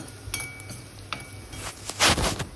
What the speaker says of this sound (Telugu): దంచి పెట్టుకున్న అల్లం పేస్ట్ వేసుకోవాలి తర్వాత ఒక స్పూను పసుపు అవి కూడా వేగిన తర్వాత